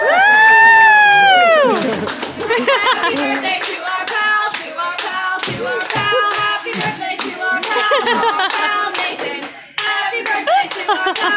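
A small group claps and cheers for a 16th birthday, with bursts of hand clapping spreading across the clip after an opening exclamation, and voices between the claps.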